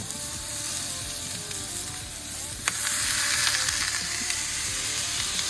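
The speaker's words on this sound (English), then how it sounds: "Let's get these on the griddle." Smash burger patties sizzle on a backyard griddle, a close, steady crackling hiss that swells louder midway with small pops throughout.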